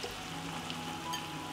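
Meat sizzles with onions in a hot pan, a soft, continuous frying hiss with faint crackles and no voices.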